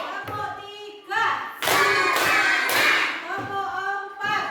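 Children in a classroom clap their hands in a counting game, sharp bursts of claps in a rhythmic run, broken up by a teacher's voice calling out the counts.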